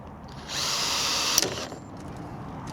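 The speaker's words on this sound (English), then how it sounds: "we've just got to put two little drill holes in there" A power drill boring small holes whirs steadily for about a second, rising in pitch, then cuts off with a sharp snap as the drill bit breaks, leaving faint background noise.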